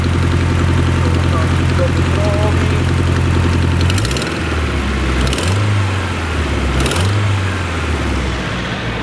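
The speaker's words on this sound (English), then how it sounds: "So that is a typical SR exhaust blow." A Nissan S14 with an SR20 engine idles close by with an exhaust blow, a steady low rumble that shifts into a few brief revs or blips toward the end, with some background noise.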